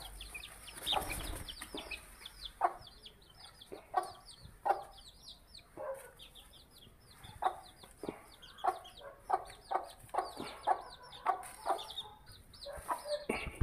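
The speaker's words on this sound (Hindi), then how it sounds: "ये मुर्गा भाई साहब हमारा अब थोड़ा चल फिर रहा है" Chickens cluck steadily in short repeated calls, fairly close, with a rooster among them and no talking.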